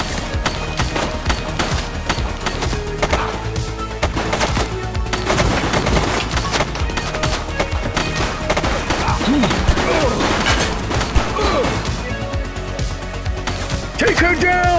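Gunfire in the police video game The Precinct, dense bursts of shots and rapid automatic fire crackling continuously under shouted voices and game music.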